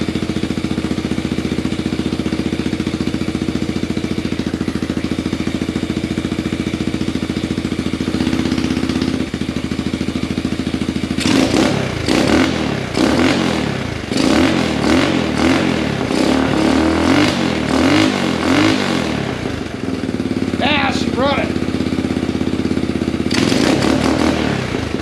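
A Yamaha YTM225DX ATV engine, recently struggling with fuel delivery to the cylinder, idles loud and close, then clatters and revs in repeated uneven bursts and keeps running rough.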